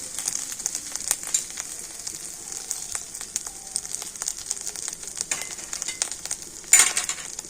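Chopped ginger fries in hot oil in a pan, a quiet, steady sizzle with occasional soft clinks of a stirring utensil and one brief louder scrape near the end.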